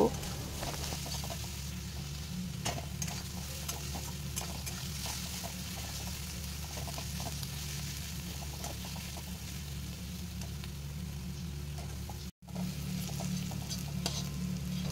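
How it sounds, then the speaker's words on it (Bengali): Onions fry in a pan with a pinch of salt added, browning for a soybean and egg dish; a steady close sizzle with occasional stirring scrapes runs throughout, broken by one brief silent gap. "দিয়ে পেঁয়াজটাকে ব্রাউন করে ভেজে নেব।"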